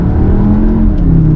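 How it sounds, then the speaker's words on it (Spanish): Synthetic engine sound from a 2022 Cupra Formentor 2.0 TSI with 310 hp, played through the cabin speakers. It is a loud, steady droning hum with a sustained low tone, heard alone from inside the car. "el sonido proviene de los altavoces, no es un sonido ni de motor ni de escape"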